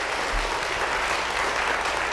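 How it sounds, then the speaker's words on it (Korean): A church audience claps in welcome, a dense, even roar of many hands that carries steadily throughout with no speech over it. "우리 박수 맞아주시겠습니다."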